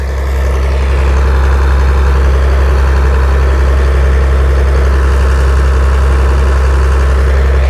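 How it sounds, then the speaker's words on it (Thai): A large drainage water pump engine running at normal speed, a loud, steady low-pitched diesel drone that holds constant and close with no variation in pace. "เครื่องนี่ถ้าเร่งเต็มที่นะครับดูดได้ไวกว่านี้นะครับแต่ว่ารอบปกติของเขานี่ทำงานไปเรื่อยๆ"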